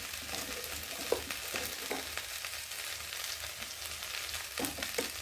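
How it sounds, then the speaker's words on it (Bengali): Potato and taro are fried with ginger-cumin paste, chili powder, turmeric and salt. The pan gives a continuous crackling hiss, with intermittent scraping and stirring knocks close by. "এখন ভালো করে আলুটাকে কচুটাকে কষিয়ে নেব।"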